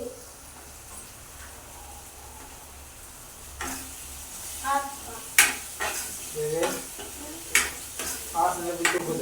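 Garlic sizzles and fries in a pan while being stirred, scraping and clinking against the pan in bursts over a steady hiss, close and moderately loud, with faint background voices.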